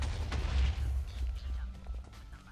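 An explosion in Minecraft, a deep rumbling blast right at the start that trails off into low debris noise, loud and close.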